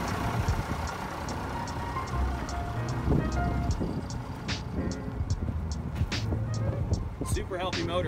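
The engine of a 1991 AM General M939 5-ton military truck runs with a steady, rumbling drone, with a voice talking over it and a few higher clanks and squeaks.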